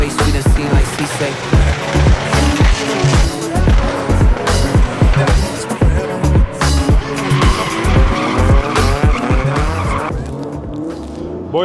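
Drift cars skidding at the Brûleurs de Gommes 2024 event, loud tire squeal and screaming engines in continuous rhythmic bursts with music playing underneath.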